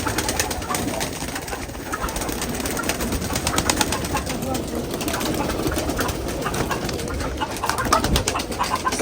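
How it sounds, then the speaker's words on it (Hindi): Pigeons, including pure white ones, coo in a steady murmur among other bird sounds and background noise, with a constant high-pitched tone running throughout. "पता नहीं क्या बोलते हैं इन कबूतरों को।"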